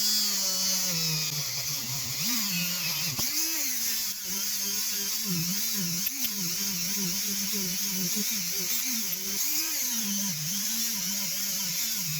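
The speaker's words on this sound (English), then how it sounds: "now we're going to finish with the 800, the buffing side, I mean the buffing part, and then we're going to go ahead and start polishing." A rotary buffing tool polishes parts of a vintage Luxor Pezon Michel spinning reel, running as a continuous high whine whose pitch wavers as pressure changes, close and steady throughout with no speech.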